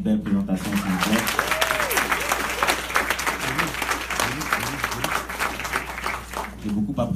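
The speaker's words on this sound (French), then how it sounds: "Je vais vous demander une faveur, c'est juste d'applaudir encore plus fort pour cette belle présentation" Audience applause following a slam poetry performance by a rapper, steady dense clapping throughout, with a voice briefly rising over it near the start.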